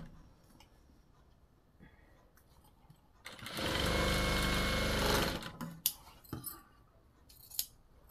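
A sewing machine stitches a blouse hem in one close, continuous burst of rapid mechanical whirring lasting about two seconds, framed by quieter fabric handling and small clicks before and after.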